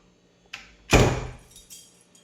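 A door latch clicks, then the door swings open with a solid thump and a brief rattle, close by and otherwise quiet.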